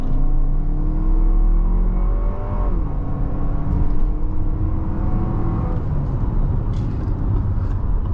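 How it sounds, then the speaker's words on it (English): A 2023 Lexus RX350 with a turbocharged engine accelerating onto the highway, its engine note climbing through the gears, with a shift around the middle, beneath steady loud road and wind rumble inside the cabin. "Now let's do a highway acceleration test."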